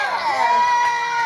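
An arena crowd at the Monster Jam World Finals roars and cheers in a steady, loud wash of many voices, with shrill shouts rising above the din for a brief moment.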